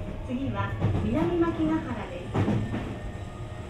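A Sotetsu 20000 series train with Hitachi SiC-VVVF drive runs between Yokohama and Shonandai, its inverter motor whine rising and sliding in pitch over low rumbling wheel noise while an onboard announcement plays.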